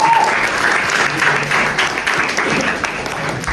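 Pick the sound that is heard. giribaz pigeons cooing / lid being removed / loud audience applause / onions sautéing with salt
loud audience applause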